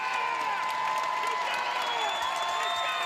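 Broncos fans roar through a packed high school basketball gym during a regional semifinal, a steady loud wash of cheering, whoops and scattered clapping with shrill voices rising over the din.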